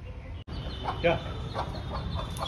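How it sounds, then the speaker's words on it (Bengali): Chickens let out of their coop, a few nearby clucks and short calls scattered over a low background, with a voice speaking partway through. "মুরগিদের ছাড়া হয়েছে,"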